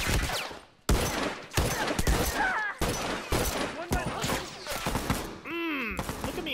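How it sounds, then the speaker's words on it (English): Gunfire in The Last of Us Remastered multiplayer, repeated close bursts of shots and rapid volleys that come in quick clusters with short gaps, loud and sharp, with game effects layered in. "Look at me evading those bullets"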